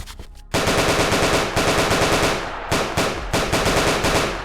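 Rifle fire from a Project IGI remake shooter game, rapid automatic bursts of sharp loud gunshots in quick rhythmic succession, broken by brief pauses between bursts, close and dominant with no voices.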